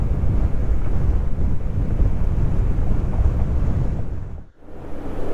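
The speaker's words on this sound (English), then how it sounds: "Wind is starting to pick up now" Strong wind roars across the microphone on the Argentine Pass trail high in the mountains near Georgetown, Colorado, a loud, continuous rumbling buffet that dips briefly near the end before gusting back.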